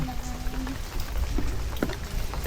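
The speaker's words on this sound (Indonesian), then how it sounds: "Kehujanan, masih hujan." Steady rain falls outdoors at a theme park, a broad hiss of drops on surfaces that holds throughout, with a few louder splashes and faint voices in the background.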